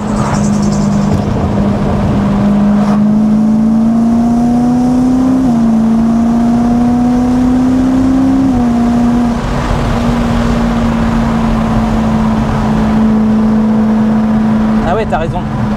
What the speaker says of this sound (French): On a envie de découvrir le V8 avec cette DKG